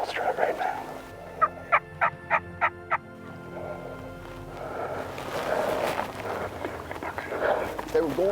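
A wild turkey in full strut stands in the middle of a road near Lake Amistad and gobbles: a quick run of about five sharp, rattling calls at moderate distance, with someone speaking quietly before and after.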